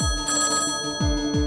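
Landline telephone ringing indoors in a Hindi family drama, a loud electronic ring repeating in quick pulses, heard alone without any talking.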